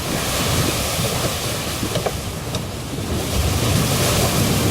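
Stormy sea with waves crashing and wind blowing, a steady roar of surf and gusting air with no voices.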